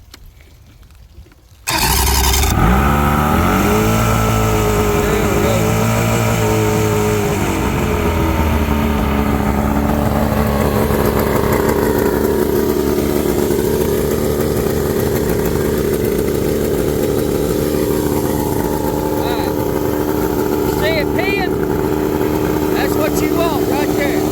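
A two-stroke outboard boat motor starts abruptly and runs loud and close, its pitch sweeping as the throttle is worked, then settling into a steady drone.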